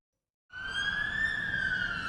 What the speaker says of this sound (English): Sirens. We must have set off alarms.